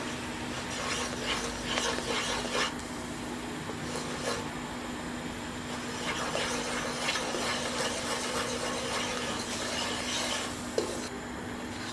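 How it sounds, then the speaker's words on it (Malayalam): Caramelized sugar stirred into milk for macaroni payasam, soft continuous scraping and swishing of a spoon in the pot, fairly quiet and close, with a faint steady hum behind it. "ഇതൊന്ന് നന്നായിട്ട് ഇതിലേക്കിട്ട് ഇളക്കി കൊടുക്കുക"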